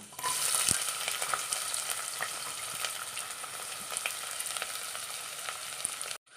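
Onion and ginger frying in coconut oil, a loud, steady sizzle with occasional stirring clicks from a spoon, close by and continuous until an abrupt stop at the end, with nobody speaking.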